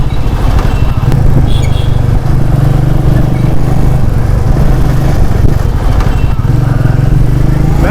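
Royal Enfield Meteor 350 motorcycle engine running loud and close with a steady throbbing exhaust note that rises in rhythmic surges of throttle over nearly eight seconds, with no speech.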